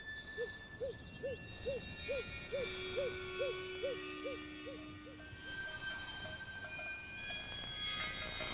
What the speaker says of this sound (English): The great gray owl is a year-round inhabitant of these northern woods.